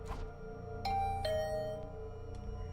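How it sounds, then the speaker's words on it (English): Doorbell chimes in the Danganronpa video game, a ding-dong tone sounding twice in close succession over a steady low background hum, then fading out. "The bell rang again."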